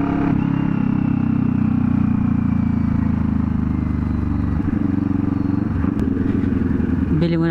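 Kawasaki-style NK400 motorcycle engine fitted with a new exhaust pipe, idling and revving with a loud, deep, continuous drone close by, a sharp clank near the end.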